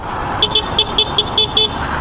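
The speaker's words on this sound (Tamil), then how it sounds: "ஹாரன் பார்த்துருவோமா," The shrill, high horn of a Honda SP 125 motorcycle beeps seven times in a quick, even series, close and loud over a steady background hum.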